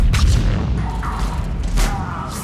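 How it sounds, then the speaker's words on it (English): Mortar fire in the Mass Effect 3 video game rumbles as deep, heavy booms and thuds, loud and sustained through the whole moment, with a faint voice barely present underneath. "Commander, we're getting a lot of mortar fire."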